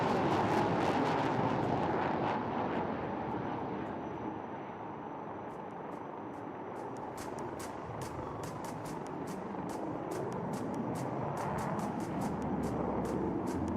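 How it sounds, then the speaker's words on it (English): A Sukhoi 30 MKI fighter jet takes off and banks left at a flying display, its broad, loud engine roar sustained throughout, dipping slightly midway before swelling again, with sharp crackling bursts layered on top. "There she goes, ladies and gentlemen, the mighty Sukhoi 30 MKI. Taking off and turning left."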